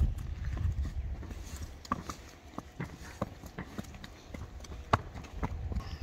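Large horses at a horse market in Tashkent clip-clop with irregular hoof strikes on hard ground, moderately close amid faint outdoor background noise.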